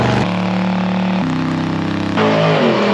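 A 1970 Chevrolet Nova's engine revs loud and close, holding steady tones that step up in pitch in stages before a rougher, harsher surge near the end, with no talking.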